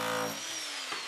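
A power tool whirs loudly during a gutted house renovation, a steady high drone that tapers off, with a brief knock near the end and no one speaking.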